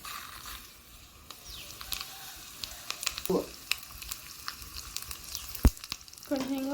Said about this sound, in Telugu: జీలకర్ర ఆవాలు కరివేపాకు ఎండుమిరగాయలు అయితే ఆయిల్లో వేసాను